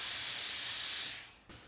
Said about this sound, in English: I'll blow the steam out of my iron.